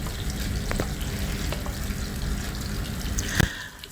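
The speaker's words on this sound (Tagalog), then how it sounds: "So pag nainit na yung mantika, ilagay na natin una yung sibuyas." Onion going into hot oil at the start of a squid adobo. A loud, dense frying crackle runs throughout, with a sharp clatter near the end; no one speaks.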